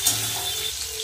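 Tomatoes and green chillies tipped into onions already fried until reddish-brown, sizzling steadily and close by in the pan with no talking.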